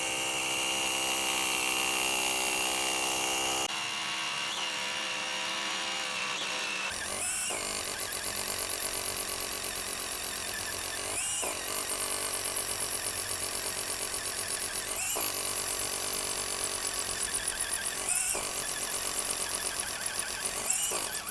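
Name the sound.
SDS rotary hammer drill breaking concrete slab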